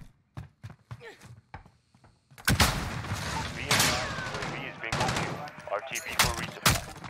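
Video game gunfire in a shooter match: sparse single cracks at first, then a dense, loud stretch of rapid automatic shots and bursts continuing to the end, with no talk over it.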